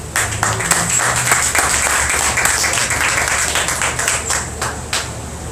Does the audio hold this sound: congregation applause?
yes